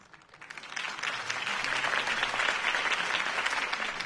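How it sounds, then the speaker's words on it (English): A crowd bursts into applause after a campaign speech, swelling within the first second into steady, dense clapping that carries on alone. "could have heard that applause"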